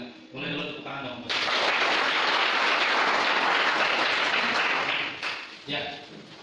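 An audience at a student motivation training applauds loudly and steadily for about four seconds, a dense wash of clapping between brief spoken moments before and after.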